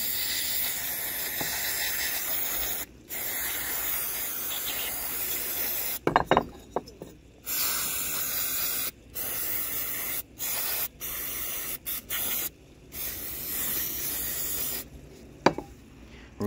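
Aerosol cleaner is blasted in repeated bursts onto a ported 224cc Tillotson cylinder head and into its valve guides, close and loud hissing sprays of varying length separated by brief pauses.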